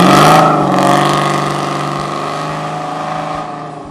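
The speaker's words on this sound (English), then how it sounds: "The Super 10 Muffler series are the smallest, and as you can probably tell, they're also the loudest." Car exhaust through a Flowmaster Super 10 series muffler, the smallest and loudest of the range at about 92 decibels, gives a loud, deep, raspy drone that swells at first and then settles into a steady rumble.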